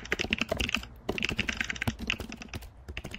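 Rapid, close keystrokes clatter on a computer keyboard while notes are typed into Obsidian, coming in quick bursts with brief pauses.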